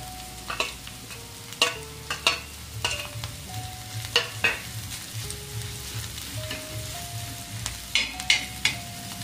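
Green chilies and garlic sizzle and spit in a hot pan while a utensil stirs and scrapes them in repeated sharp strokes, close and clear, with no talking.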